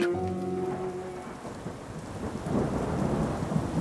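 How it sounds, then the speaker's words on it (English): A thunderstorm rumbles with a deep roll of thunder over steady, heavy rain that swells louder toward the end, dense and close with no voices. "I was disturbed fitfully by crashes of thunder and lightning flashes along the mountainside"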